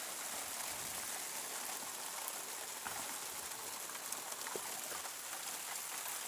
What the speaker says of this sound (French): Vous voyez, il pleut quand même.